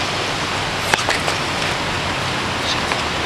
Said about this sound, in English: Nick, it's raining